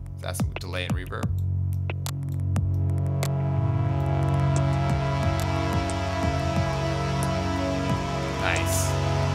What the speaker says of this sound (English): That's some delay and reverb.